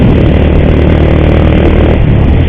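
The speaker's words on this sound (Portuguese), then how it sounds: "Barulhinho estranho na moto também" Motorcycle engine with an ugly, strange noise in its timing chain, heard as a loud, constant roar and clatter throughout, close to the microphone while riding.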